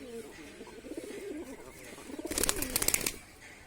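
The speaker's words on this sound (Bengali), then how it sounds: "বন্ধুরা কবুতরটা উড়ে পাশেই বসেছে" A pigeon near a trap coos in low throaty rolls, followed by a brief loud burst of flapping wings close by, then quiet.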